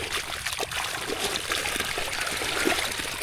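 Steady trickling and streaming water runs continuously as a barrier is removed to release it into a field, a broad wash of flow with small splashy bursts, fairly close and without talk.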